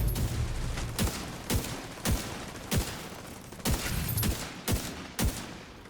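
SVD rifle fire in a video game: around nine sharp shots spaced roughly half a second to a second apart over a continuous background rumble, with no talking.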